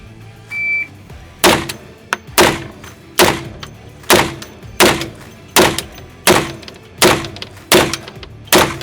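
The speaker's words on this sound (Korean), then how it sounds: "자, 과연 내 티어는 몇 티어일까? 자, 10발" A Desert Eagle pistol fires ten shots at an indoor shooting range, each a loud, close, booming report with a short echo, spaced roughly evenly less than a second apart.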